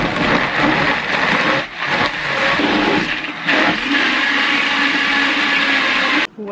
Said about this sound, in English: Blend it up. Oops, gotta plug it in.